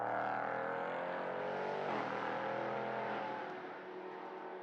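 A prototype race car engine howls at Mugello circuit during a European Sprint Prototype Cup race, a loud, sustained high-revving roar that holds steady, then eases slightly as the car heads into turn one, with no talk over it.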